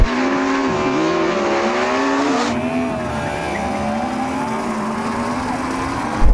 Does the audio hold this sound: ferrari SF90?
yes